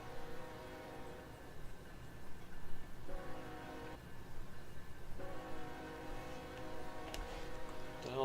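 A train in a Roblox game, with Amtrak California San Joaquin ALC42 locomotives mentioned, sounds its horn in several sustained tonal blasts over a steady rumble of rolling rail cars.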